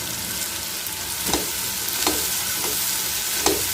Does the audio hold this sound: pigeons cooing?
no